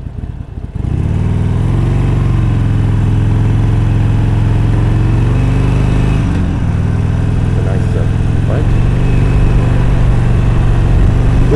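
A motorcycle climbs uphill through Laurel Canyon, its engine droning loud and steady at close range with slight shifts in pitch as it pulls, wind noise throughout.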